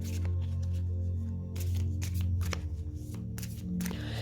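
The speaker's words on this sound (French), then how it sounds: "je vais vous tirer une petite carte, comme je vous avais promis. Voilà. Alors, je vais le mélanger." Oracle cards shuffled by hand in a steady series of crisp, riffling bursts close up, over a low steady humming tone and with no talk.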